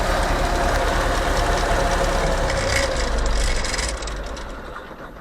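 A YuMZ tractor with a D-240 diesel engine runs after starting, giving a loud, rough, knocking rumble that holds steady and then eases to a quieter idle in the final second. No one speaks.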